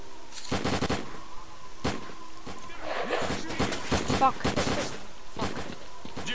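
Automatic gunfire from the shooter game Lost Alpha, with several sharp bursts and single shots scattered across the stretch, fairly close and loud, with a voice speaking briefly in between.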